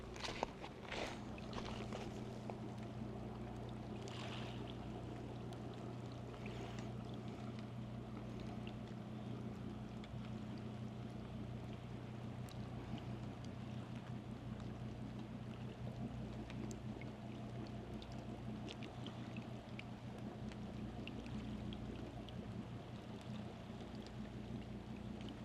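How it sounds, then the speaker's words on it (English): A boat heads out across the water at Governors Point in the rain, its low steady engine hum held at a distance under wind and rain noise the whole time, with no one speaking. "The boat's on its way out."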